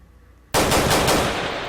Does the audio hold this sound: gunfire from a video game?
yes